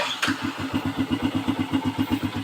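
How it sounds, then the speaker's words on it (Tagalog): A motorcycle engine with a carburettor being tuned starts up and settles into a steady, rapid putter, loud and close, with no talking. "So first step natin is bubuhayin natin ng makina. Paanda rin natin."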